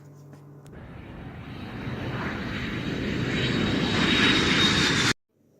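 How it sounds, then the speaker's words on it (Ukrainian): A fixed-wing airplane's engine drones steadily as the plane flies, growing gradually louder over several seconds before cutting off abruptly into near silence. "літак"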